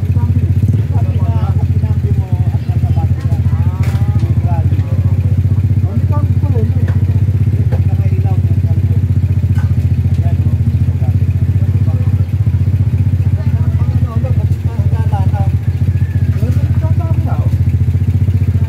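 An automatic scooter engine idles steadily and loudly throughout, with faint voices talking in the background.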